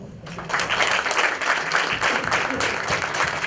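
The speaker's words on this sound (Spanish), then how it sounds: "les pido un fuerte aplauso" Audience applause after a technical panel on natural gas storage, a steady wash of clapping from a roomful of people lasting a few seconds, moderately loud and without talk.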